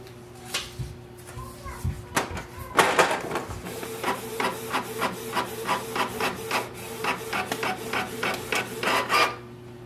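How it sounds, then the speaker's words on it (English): A Canon Pixma TS3750i inkjet printer prints a test page, starting with clunks and whirs, then a close, rhythmic series of rasping print-head passes repeating about twice a second. "the next step is to print the test page"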